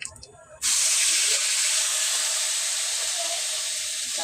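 Onion paste hits hot oil in a pan for a meat curry, setting off a sudden loud hiss that holds steady and broad for several seconds after a brief quieter lead-in.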